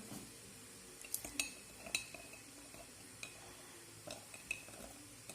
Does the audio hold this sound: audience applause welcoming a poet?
no